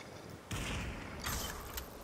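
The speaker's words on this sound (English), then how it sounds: "Oh, I heard gunshots." Gunfire in the VR shooter game Population One: a sudden loud burst at about half a second, then a second sharp crack and a brief flurry, heavy and close, with no talk over it.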